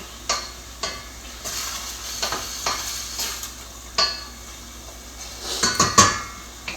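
Food cooks in a pan on a gas stove, with a spatula scraping and tapping against the metal in repeated sharp knocks over a soft sizzle, close up and with no talking.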